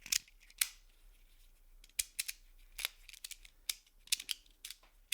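A Morpheus fidget slider, used without its faceplates, rattles right against the microphone in a quiet room, giving irregular sharp metallic clicks and snaps in quick clusters with short pauses between.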